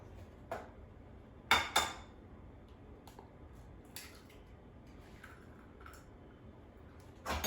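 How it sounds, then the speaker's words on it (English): An egg is cracked against a bowl in a home kitchen: two sharp, close taps in quick succession, then a few faint clicks and small knocks in an otherwise quiet room with no talking. "And now I'm going to crack an egg in a bowl."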